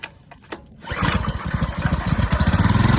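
A motorcycle engine in need of some tune work starts on a single pull after a few quiet sounds, then settles into a loud, steady, rapidly pulsing idle close to the mic.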